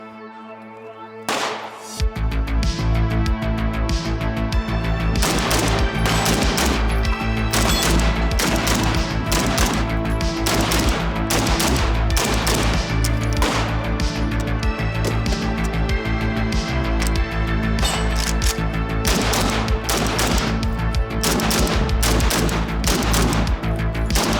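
Sustained gunfire from a 5.56 AK rifle at a shooting session, a loud, dense run of sharp reports fired in rapid succession after a brief quiet start, continuing almost unbroken throughout.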